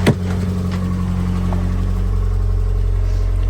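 A Nissan Primera P11 GT with 132,000 miles idles steadily after a ten-year lay-up, a smooth low engine hum, close and even, following a brief click at the start.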